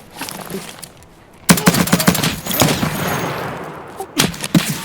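Gunfire in the video game Escape from Tarkov: bursts of rapid automatic shots crack loud and close, with a quieter lead-in, a dense volley in the middle and a few final shots.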